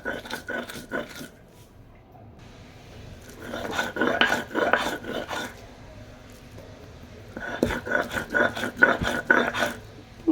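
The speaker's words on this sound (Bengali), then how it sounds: "তো মরিচগুলি বেটে নিচ্ছি।" Green chilies hand-ground for a spicy bean bharta, giving bursts of rough, rhythmic rasping and scraping strokes separated by quieter pauses, close and moderately loud.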